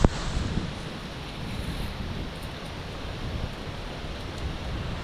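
Wind blows hard outdoors in a steady, broad roar, with rushing gusts that swell and ease against the microphone and no voices.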